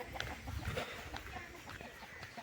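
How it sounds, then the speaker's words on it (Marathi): Chickens in a rural village cluck and call softly in a few scattered bursts, faint and somewhat distant against an outdoor background. "इकडे कोंबडी दिसतात."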